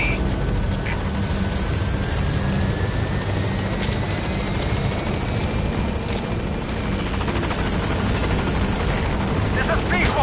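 A helicopter arrives at a landing zone in Metal Gear Solid V, its rotor roar loud and constant throughout, with faint game voices underneath.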